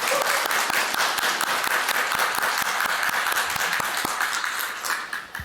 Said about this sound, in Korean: 환영의 박수를 드립니다.